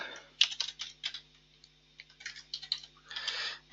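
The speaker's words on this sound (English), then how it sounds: "Type in the invoice number" Close clicks of a computer keyboard as an invoice number is typed, coming in quick uneven bursts with short pauses between them.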